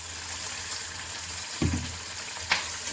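Asafoetida hits hot oil for a Tamil sambar tempering, producing a steady, close, hissing sizzle broken by a couple of brief clinks or stirring knocks.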